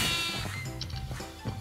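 Sheep bleats from the video game Minecraft during a sheep-catching mini-game: a few short, nasal bleats over a steady bed of game sounds, moderately loud and close.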